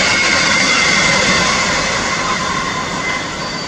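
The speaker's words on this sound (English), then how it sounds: "It's a passing locomotive and it's on middle." A locomotive rolls through Rugeley Trent Valley station on the middle line, a loud, continuous rushing rail noise with a metallic wheel hiss that slowly eases off as it passes.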